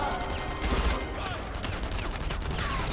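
PPSh submachine gun firing in the video game Enemy Front during a Polish siege level, rapid bursts of automatic fire mixed with other game noise at moderate loudness.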